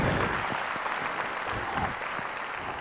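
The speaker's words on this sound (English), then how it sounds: "could we give a round of applause to the mayor and to Grant" Audience applause at a public event honoring a mayor, a dense, continuous burst of clapping lasting a few seconds.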